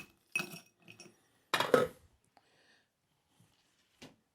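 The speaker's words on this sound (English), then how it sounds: "Fill the glass with ice." Several ice cubes clatter and clink into a salt-rimmed glass in quick bursts, followed by a few faint settling clicks.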